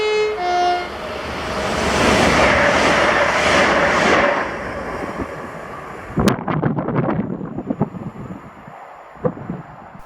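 Virgin train passing at Carluke on the Glasgow Central to London Euston service, opening with a short horn blast, then a loud rushing roar that fades into rhythmic clattering of wheels over rail joints.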